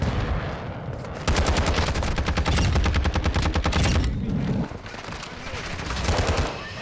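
Sustained automatic gunfire in the first-person shooter Call of Duty: Modern Warfare, a loud rapid burst stretching several seconds, then a brief drop before more close firing resumes.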